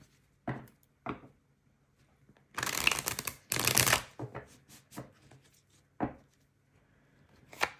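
Tarot cards shuffled by hand, a few short riffles and taps followed by two louder, longer bursts of shuffling and then scattered softer card slaps, close and clear in a quiet room.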